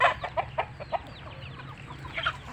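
Black Australorp and Rhode Island Red chickens cluck close by in a quick series of short, sharp clucks that soften into quieter murmuring.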